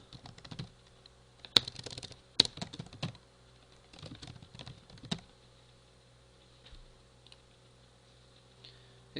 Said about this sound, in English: here you just type in the string required by the fax gateway.